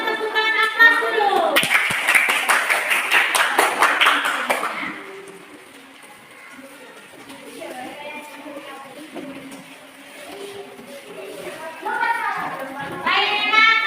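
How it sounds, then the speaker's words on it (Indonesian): A classroom of children claps their hands together, with a burst of rapid, close claps for a few seconds. Children chatter and call out before and after. "Kita tepuk tangan atas dulu."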